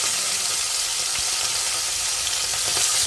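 Tilapia fries in mustard oil in a pan, a continuous close, fairly loud sizzle with small crackles throughout and no one speaking.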